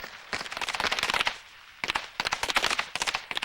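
A SWAT team fires fully automatic weapons in rapid bursts, with dense trains of sharp, loud shots, a brief pause, then more bursts close by.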